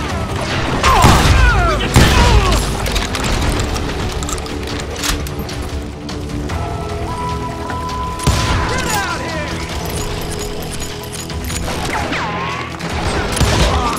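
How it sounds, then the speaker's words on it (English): Gunfire from the Call of Juarez: Gunslinger video game sounds in scattered loud shots and bursts, with booms and thuds, partly under game voices and narration. "They're shooting in the street!"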